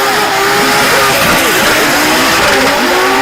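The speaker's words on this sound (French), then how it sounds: "placer l'auto, la Subaru BRZ le long du rail pour Jason Banet." A Subaru BRZ drift car screams along the rail at a Drift France event, its engine revving hard and continuously close by, with tyre noise and a commentator's voice partly under the din.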